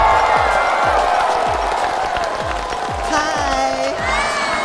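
A studio audience at a stand-up comedy show cheers, whoops and claps loudly and continuously, with a steady thumping beat pulsing beneath the crowd noise.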